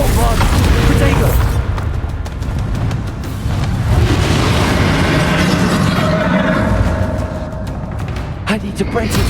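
A Bombarda blasting spell explodes in the Hogwarts video game, a dense, roaring boom that rumbles on for several seconds, loud and close, with game voices speaking over it.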